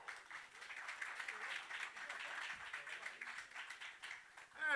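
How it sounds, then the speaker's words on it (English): A comedy club audience at The Rainbow Room claps to welcome a comedian onstage, a fairly quiet, sustained patter of hands that stays steady, with a brief louder swell at the end. "Please put your hands together and welcome Mr."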